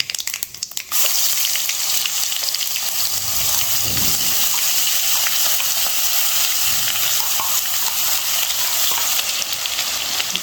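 Masala spice paste with curry leaves sizzles and fries loudly in hot oil in a pan, a dense continuous crackle with occasional stirring, close and steady throughout.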